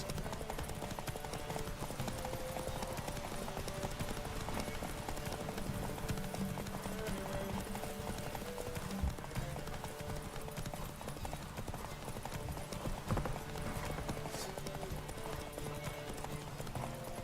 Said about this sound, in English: Giddy up. Take your mount to her limits.